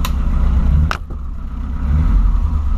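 A boxy old Volkswagen Voyage engine turns over and catches, running loud and close with a steady low rumble, broken by a brief sharp click and dip just before the idle settles and picks up again.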